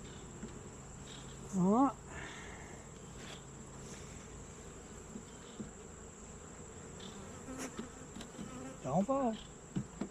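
Honeybees buzz around an opened backyard hive while a beekeeper hunts a hive beetle, a soft steady drone with a couple of louder passes close by and someone speaking briefly.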